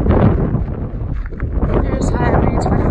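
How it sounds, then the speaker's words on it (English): Light breeze on an open trail at South Pass City on the Continental Divide Trail, a loud rumbling wind buffet on the microphone that persists throughout, with someone talking over it. "It's just a light breeze right now. It's been windy as hell."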